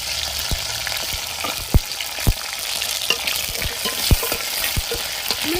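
Small onions, garlic and green chillies sauté in hot oil, a steady close sizzle punctuated by sharp, irregular spatula taps and scrapes against the pan.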